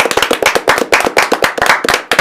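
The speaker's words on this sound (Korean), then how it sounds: "자 우리 시청자 여러분을 위해서 박수 드리겠습니다" Studio applause for viewers at the close of a Korean political broadcast: rapid, loud, close hand claps in quick irregular bursts, with no talk over them.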